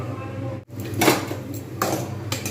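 A lid set onto a cooking pot of simmering olive chutney, with a couple of clinking metal knocks against the rim over a low background hum.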